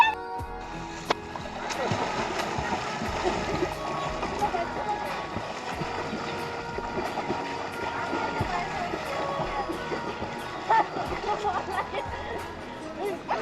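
Water splashing from someone swimming, a steady churning wash that runs throughout, with people talking over it nearby.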